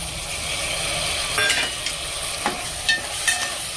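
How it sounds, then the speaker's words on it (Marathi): Chopped tomatoes sauté in a hot tempering with okra in a pan for a dry okra and carrot dish, giving a steady hiss with a few scraping stirs of a spoon and light clinks throughout. "2 मिनिटं परतून घ्यायचं याला."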